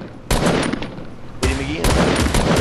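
Loud bursts of rapid automatic gunfire in Fortnite, two dense volleys of close shots, the second sustained and heavier, with a voice talking in the background.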